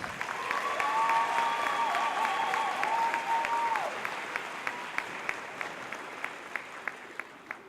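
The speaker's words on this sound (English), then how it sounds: "How about one more round of applause?" A graduation audience applauds for a performance, a full steady wash of clapping that thins out into scattered individual claps over the last few seconds, with a faint tone briefly underneath.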